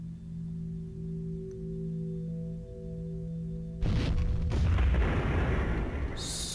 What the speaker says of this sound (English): heard an awesome explosion